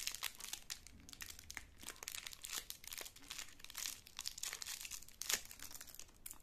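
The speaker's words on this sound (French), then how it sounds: "je vais enlever du papier" Paper wrapping torn and crinkled off a small gift from a makeup Advent calendar, a steady run of close, dry crumpling and ripping bursts with no talk.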